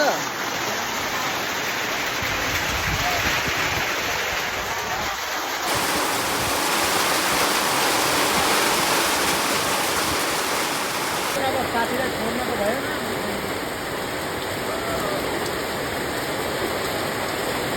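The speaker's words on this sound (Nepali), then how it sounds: "पानी परिरहेको छ" Heavy rain falls steadily at a crowded temple outing during a monsoon puja, a continuous loud wash of water with a person speaking briefly over it and background crowd sounds.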